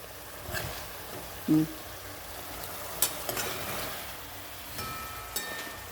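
Mutton cooking in a pan gives a steady, soft sizzle throughout, with a few brief louder clinks or bumps standing out against the continuous frying hiss.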